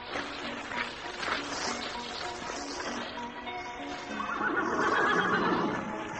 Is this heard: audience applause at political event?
no